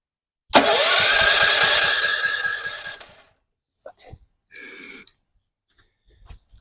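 Electric starter cranking a DuraMax XP4400EH generator engine in rapid rhythmic turns for about two and a half seconds, loud and close, without catching. Brief mechanical clicks follow.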